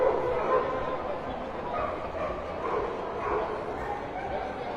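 Dogs barking and yipping throughout a busy indoor dog show with an entry of about 1,400 dogs, a dense, echoing mix of distant and nearer barks over constant crowd murmur, with people talking.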